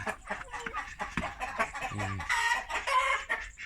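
Domestic fighting-breed chickens in a mixed flock cluck repeatedly at close range, with short overlapping calls, a few louder squawks and a brief low rumble midway; no talking.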